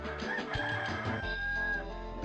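A rooster in the 102 Dalmatians video game crows and clucks in a brief, fairly quiet burst of fowl calls lasting about two seconds.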